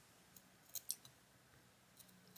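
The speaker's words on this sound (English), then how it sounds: "you have to make a little snip" Scissors snipping fabric for a wrap top up to the stitching line, heard as a few faint, sharp clicks spaced apart in a quiet room.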